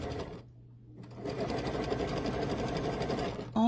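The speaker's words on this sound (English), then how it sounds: "And then you're just going to sew" A sewing machine stitches binding fabric around the edge of a soft DIY blanket, running steadily and close after a brief pause, with a faster whir at the very end.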